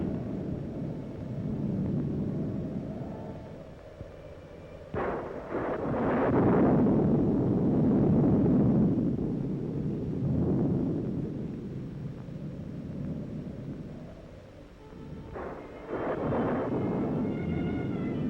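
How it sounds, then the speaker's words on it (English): Rumbling thunder rolls through a stormy night, with two heavy booming peaks a few seconds apart over a continuous low storm roar, no talk. "Better take cover, or the storm grows worse."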